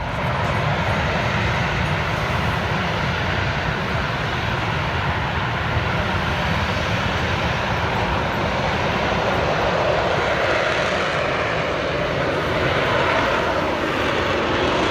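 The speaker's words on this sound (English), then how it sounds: "This jet's doing a vertical takeoff by hovering." A jet hovering during a vertical takeoff gives a loud, unbroken engine roar that holds steady and close for the whole stretch.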